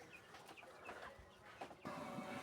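Backyard chickens clucking and pecking at feeding time, several short scattered clucks at moderate distance over a rustling background, with a brief louder clatter near the end.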